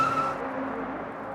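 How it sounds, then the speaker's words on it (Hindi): A white Baleno car pulls up at a bus stop, its engine and tyres giving a loud, steady rush of road noise up close, with no voices. "और तभी एक सफेद रंग की बलीनो कार बस स्टॉप पर आकर रुकती है।"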